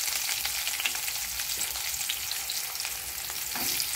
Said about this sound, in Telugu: ఇప్పుడు ఆయిల్ హీట్ ఎక్కాక తిరుమల దినుసులు వేసుకోవాలి. ఇప్పుడు ఇవి ఫ్రై అయిపోయాక